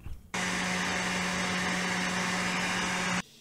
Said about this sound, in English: I'm going to set up my hair dryer because I need both my hands to hold this in place.